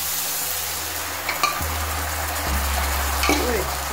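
Rump steak stir-frying with oyster sauce in a hot pan: steady sizzling and bubbling, with a few clanks of a utensil stirring against the pan, close up.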